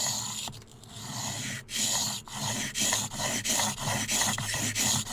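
A knife blade scrapes back and forth across a 220 grit sharpening stone in quick, steady strokes, each pass a gritty rasp separated by brief pauses, close and fairly quiet.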